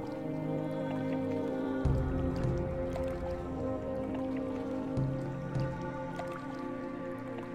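A waterfall in the video game Gothic 2 gives a steady rushing, splashing wash of water, heard continuously beneath sustained tones of in-game music.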